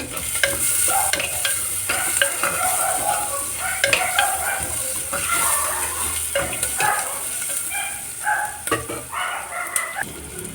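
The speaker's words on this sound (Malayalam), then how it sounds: "കൊഞ്ഞുള്ളി ഇഞ്ചി പച്ചമുളക് എന്നിവ വഴറ്റിയെടുക്കാം" Shallots, ginger and green chillies sautéing in a pan, a steady close sizzle with frequent spoon scrapes and stirring knocks throughout, a rooster crowing faintly in the distance.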